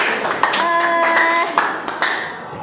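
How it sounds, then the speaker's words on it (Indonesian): Classmates in a classroom clap together in a short burst of applause, with sharp, dense hand claps close by and a few voices over them before it tapers off. "beri tepuk tangan yang meriah untuk teman-teman kita"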